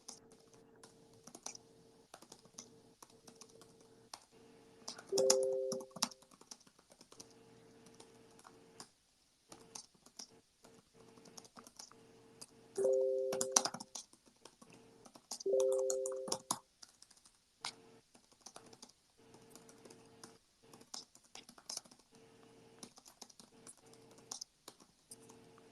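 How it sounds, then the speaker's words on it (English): Computer keyboard typing in quick bursts of clicking keystrokes, close and fairly quiet, separated by pauses, with a faint steady hum behind. "that's me typing"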